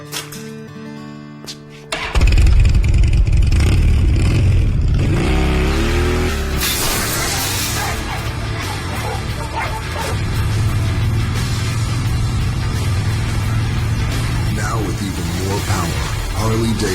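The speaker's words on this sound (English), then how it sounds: "the growl of the motorcycle sounds so good at volume" Harley-Davidson motorcycle engine growling loudly in a 2012 TV ad, a sustained low rumble with revving swells that begins abruptly after a quieter opening and carries on at full volume under music and voices.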